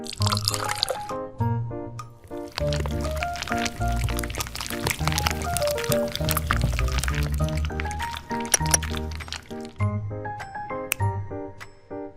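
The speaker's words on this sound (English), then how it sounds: "Cooking oil." Cooking oil pours in a smooth liquid stream while cake ingredients are prepared, partly masked by prominent melodic background music throughout.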